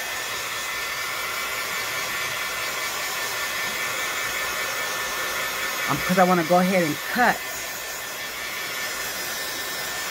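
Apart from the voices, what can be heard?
hair dryer drying a collage board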